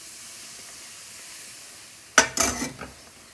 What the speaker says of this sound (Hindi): जल्दी जल्दी हमने हाथ को चलाते जाना है ताकि जल्दी से जो घी है ना वो बेसन जो अपने अंदर अब्जॉर्ब करता जाए